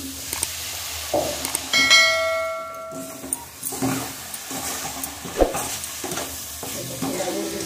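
Sugar stirred into a pan of coconut mixture while cooking pitha: a spatula scrapes and scuffs against the pan in uneven strokes over a soft sizzle, with a brief ringing metallic tone from the utensil near the start.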